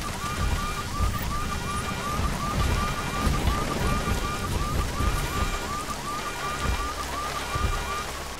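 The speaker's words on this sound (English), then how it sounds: "these car alarms are really giving me a lot of jip these days" Car alarm in the video game Deus Ex: Mankind Divided, a rapid repeating electronic warble cycling steadily throughout, mixed with a constant patter of rain.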